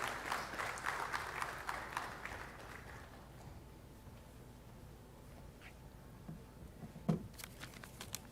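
An audience at a hackathon inauguration ceremony gives a round of applause, dense clapping for about three seconds that fades to scattered claps and stray taps in a quiet room.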